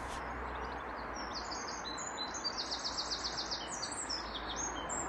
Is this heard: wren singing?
yes